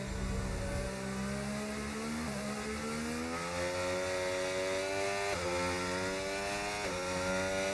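Race car engines in a racing video game, a sustained high whine that climbs through the gears with short dips at each shift, loud and continuous with other cars droning underneath.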